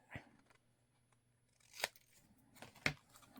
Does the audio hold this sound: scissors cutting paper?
yes